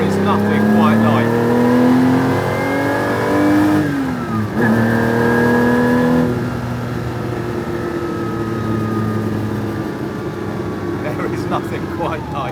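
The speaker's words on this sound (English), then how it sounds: "this Ferrari Colombo V12" A Ferrari Colombo V12 engine in a Ferrari 250 SWB revival revs hard and high, pitch climbing and shifting through gears, then settles into a smooth drone, loud and close with someone talking over it.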